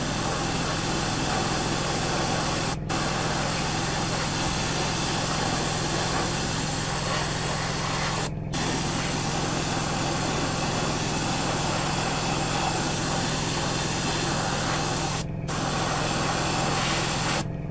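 An airbrush or spray gun coats the main front cowling of a Tamiya 1/12 scale Yamaha YZR M1 '09 model kit with a steady, continuous hiss. Short pauses break the spraying, and no one speaks.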